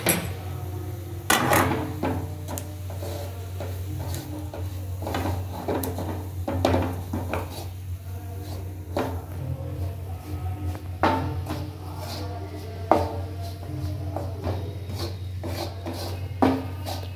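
Drumstick vegetable being sautéed in a pan with ground peanut and coconut powder: a steady low hum runs under repeated scraping and rasping strokes of a spatula, with occasional sharper knocks against the pan, close up and with no talking.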